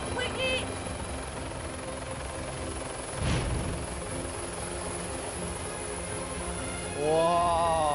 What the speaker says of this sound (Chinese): 哇，飞机！ 飞机！